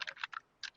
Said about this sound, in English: I was trying to figure out how to mute typing while I was talking